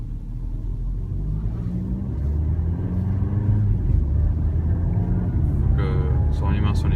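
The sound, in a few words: Valeo eCruise 4u autonomous car accelerating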